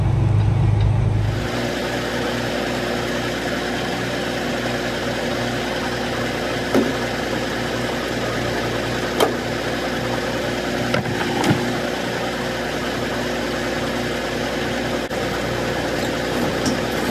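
A Knight Transportation semi truck runs outside at night in Tolleson, Arizona, its engine a steady, continuous rumbling drone that holds an even level throughout, with a few faint clicks and no voices.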